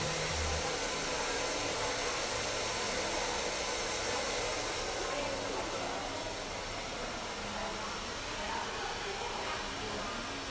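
Hair dryer fitted with a diffuser runs steadily throughout as a loud, continuous airy roar with no breaks, filling the space in a salon setting.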